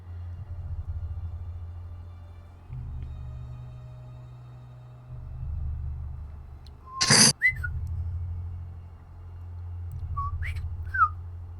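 A mechanical toy bird with moving feathers lets out a sharp, high whistled chirp partway through, then a couple of shorter, fainter chirps. A low hum sits underneath.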